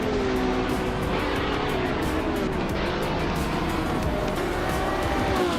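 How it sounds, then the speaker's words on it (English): Racing car engines in an AI car race video game, a steady loud droning roar of several motors at once with faint shifting pitch, no talking. "Hope you're ready to enjoy some exciting AI car races with us."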